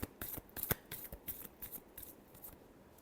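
Tarot cards are shuffled by hand, producing a quick series of soft, close riffling and flicking snaps over a few seconds, fairly faint with no talking.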